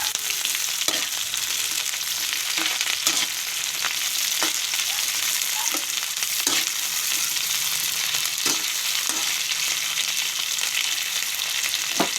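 Tilapia heads fry in a pan, giving a loud, steady hiss of sizzling oil broken by occasional sharp clicks and scrapes of stirring, with no voices.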